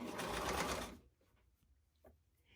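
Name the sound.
sewing machine back stitching sherpa fabric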